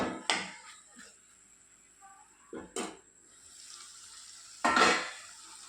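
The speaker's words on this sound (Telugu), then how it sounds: "అన్నీ వేసి బాగా కలుపుకోవాలండి ఇప్పుడు మూత పెట్టి కొద్దిసేపు మగ్గిద్దాము" Eggplant and dry fish curry is stirred in a pot, with three separate scraping bursts of the spoon spread out over a faint, quiet sizzle.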